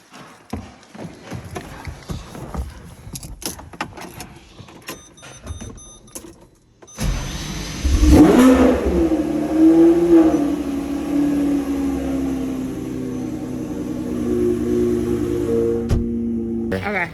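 After shuffling and clicks, a very loud car engine cranks and fires up, roaring as it revs hard, then settles into a deep, steady rumble close by.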